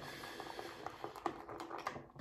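Proraso Verde shaving soap is whipped into lather with a brush, giving soft, faint, irregular wet squelching and clicking patter at close range.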